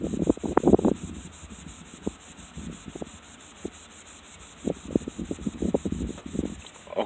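Meguiar's Ultimate Compound is rubbed by hand across a paint surface in an abrasive test, giving close, rhythmic scrubbing strokes that rise and fall steadily with no talking.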